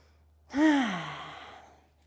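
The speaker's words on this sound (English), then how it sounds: "we'll do 2 more breaths here" A single deep exhale during a guided breathing exercise in a movement class, a breathy sigh with a voiced falling tone that swells quickly then trails off over about a second, close and alone.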